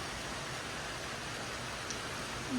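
A passing rain shower makes a faint, even hiss of falling drops, steady throughout with no voices.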